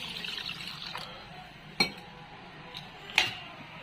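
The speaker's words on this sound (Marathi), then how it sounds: "चला आता पाणी वतून घेऊ." Water poured into a cooking pot of vegetables for a paneer veg biryani, a soft liquid wash with a couple of sharp clinks of a vessel against the pot.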